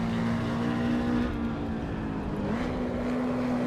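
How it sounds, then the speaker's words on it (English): A car engine in the Assetto Corsa Evo racing game, a steady droning hum that briefly dips and shifts pitch partway through as the gear changes down, with no voices. "Ooh, that's a bad downshift."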